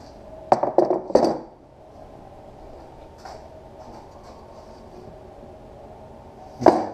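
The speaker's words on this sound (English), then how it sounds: "Man, this is some heavy duty tempered glass." Heavy duty tempered glass from an old RV door being handled, giving a quick cluster of sharp clinks and knocks, a lone tap later, then another bright clink near the end, with quiet room noise between.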